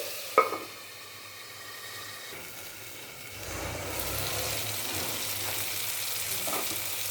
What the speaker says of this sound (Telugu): ఇప్పుడు మనము మూత పెట్టి కొంచెం సేపు వేగనిద్దామండి